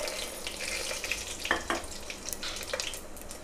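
Whole spices sizzle and crackle in hot oil in a pan for chicken biryani, a steady close frying hiss with a few sharper pops and spits, no voices.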